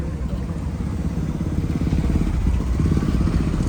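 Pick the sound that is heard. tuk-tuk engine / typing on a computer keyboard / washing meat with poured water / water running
tuk-tuk engine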